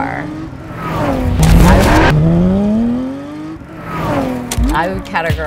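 A modern classic car engine revs and rises in pitch through acceleration, with tire squeal and a second surge of revving near the end, loud and close over a background voice.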